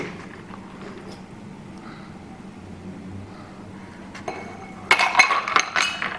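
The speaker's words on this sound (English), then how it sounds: "Ideally, serve it in a rocks glass." A shaken gin and brandy cocktail, a local take on the Bermuda, is served into a rocks glass: after a quiet stretch, ice and glass clink and rattle sharply in a short, close burst near the end.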